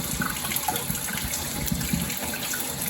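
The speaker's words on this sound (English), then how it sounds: "I give it a good rinse because I really don't want my house smelling like vinegar." Steady gushing water rinsing the tank of a Safety First cool mist humidifier, a continuous close splashing flow with no talk.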